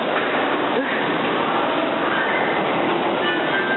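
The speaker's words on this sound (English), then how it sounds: "This is the fanciest metro station ever." Paris metro train in a station, a loud continuous rumble and hiss of rolling carriages and wheel noise close by, with a brief squeal near the end.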